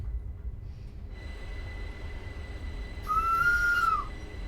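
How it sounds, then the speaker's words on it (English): A train whistle sounds in Train Sim World 4 on the Berninalinie route between Tirano and Ospizio Bernina: a single steady tone lasting about a second with a slight fall at the end, over a low rumble of the moving train. "That's a whistle."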